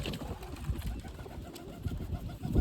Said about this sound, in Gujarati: કેટલા બધા કબૂતર છે